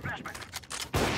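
Bursts of rapid gunfire from a tactical first-person shooter round, loud and close, ending in a sustained dense volley, with players talking over it.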